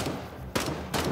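Bursts of gunfire ring out in the Vietnam War shooter game Rising Storm 2: Vietnam during urban fighting in Hue City, with two sharp loud volleys over dense ongoing battle noise.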